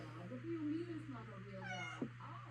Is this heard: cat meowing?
yes